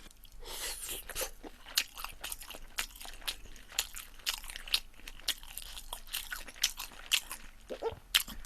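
Close-up eating of kimchi cheese sweet and sour pork with Korean sundae: steady crunchy bites and wet chewing in quick irregular rhythm, near and fairly loud, with no talk.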